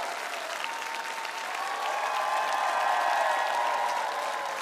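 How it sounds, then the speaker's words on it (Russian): Sustained applause from a large audience, steady and full throughout, swelling slightly toward the end. "Эти аплодисменты вам"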